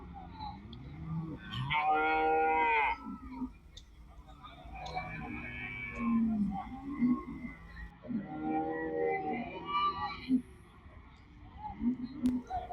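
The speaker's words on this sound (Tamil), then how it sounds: "நம்ம உன்னோட மாட்டு சந்தையில் நிறைய மாடுகள் வருதுங்க" Cattle low and moo amid the bustle of a native cow market at Kundadam, with several drawn-out calls rising over steady crowd chatter and people talking nearby.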